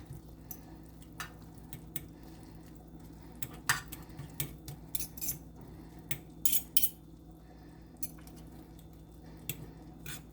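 Garlic being smashed and mixed in a bowl for a creamy tomato sauce pasta, heard as close, scattered sharp clicks and scrapes of a utensil against the bowl over a low steady background, with no talking.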